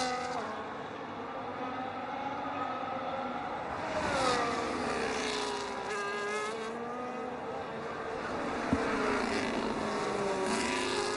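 F1 racing cars circle a Chinese Grand Prix track in a racing game, high engine whines rising and falling steadily as drivers weave to warm their tires, a continuous mid-distance drone with shifting pitch.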